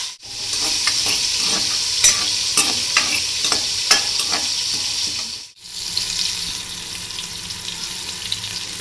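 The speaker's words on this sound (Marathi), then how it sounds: "याला चांगले तेल सुटत तोपर्यंत ते आपण परतून घेऊयात." Finely chopped tomatoes sauté in oil in a pan, a loud close sizzle with repeated scraping stirs at a steady rhythm, briefly cut off midway before the frying hiss resumes.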